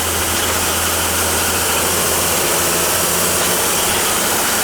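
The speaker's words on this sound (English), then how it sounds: "It hums only when you're calling for hot water." A hot water system unit hums steadily with a low, continuous drone and broadband rush, heard alone and fairly loud throughout without any speech.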